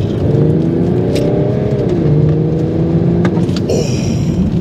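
A BMW 335d diesel car accelerating hard, its engine note rising in steady pulls with a gear change partway through, loud and close with no talking over it.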